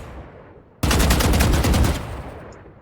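A short burst of rapid automatic gunfire in Valorant, aimed at the small orbs of a wall, starts abruptly after a quiet moment, loud and close, then tapers off over about a second.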